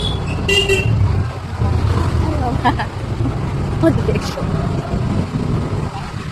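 Congested street traffic jam with idling engines and brief car horn toots, a dense steady roadway rumble close by with people talking over it throughout.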